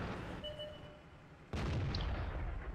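A single heavy cannon shot from an E50 tank in World of Tanks, a sudden loud boom breaking out of quiet engine rumble and ringing on with a dense rumbling tail.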